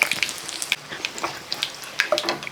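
Rapid irregular crackling and popping of mustard seeds spluttering in hot coconut oil, sharp little bursts over a soft sizzle, close by.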